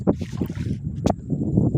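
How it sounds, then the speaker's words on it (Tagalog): Low rumbling wind buffets the microphone with choppy water sloshing nearby in a tilapia fishing area, plus a brief splash in the middle. "Alon-alon na, may hangin na."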